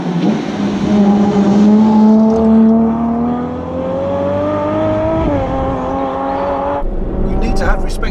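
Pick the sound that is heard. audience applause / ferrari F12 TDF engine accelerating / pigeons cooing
ferrari F12 TDF engine accelerating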